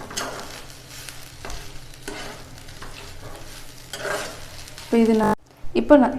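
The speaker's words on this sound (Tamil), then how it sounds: "அந்த உப்பு எல்லா பக்கம் மிக்ஸ் ஆகிறதுக்கு நல்லா கிண்டி விட்டுருங்க" A spoon stirs coconut with a pinch of salt in a pan for coconut rice: repeated scraping strokes over a soft sizzle, close up, with a brief louder clattering burst near the end.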